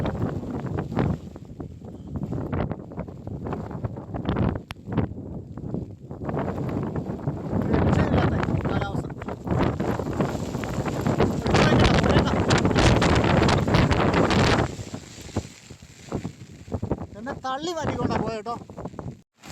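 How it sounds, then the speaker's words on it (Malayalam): Strong gusts of wind and rain in the Idukki hills roar and buffet the microphone, surging and easing over about twenty seconds, with people talking underneath. "ഇപ്പൊ ഇവിടെ നല്ല കാറ്റും മഴയാണേ"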